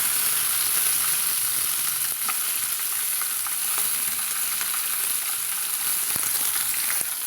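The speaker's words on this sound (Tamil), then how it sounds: "சேர்த்து நல்லா வதக்கிட்டுக்கலாங்க." Chopped tomato sautés in a hot oiled pan for a jackfruit seed curry, giving a continuous bright sizzle with occasional soft stirring scrapes, close and steady with no talking.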